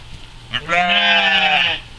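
A sheep on farm pasture gives one long, loud bleat lasting about a second, wavering and harmonic, heard close by with no talk over it.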